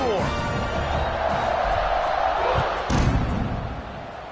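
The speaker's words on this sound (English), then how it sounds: "this crowd is buzzing after that last score" A stadium crowd in the College Football 26 video game, Ole Miss versus Oklahoma State, buzzes with a loud, steady roar and a swell of cheering, while a commentator talks over it.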